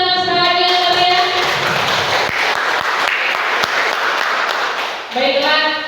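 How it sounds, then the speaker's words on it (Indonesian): An audience bursts into dense, sustained applause that swells and then tapers; a voice speaks over the opening and returns as the clapping fades. "kita beri tepuk tangan sekali lagi yang meriah"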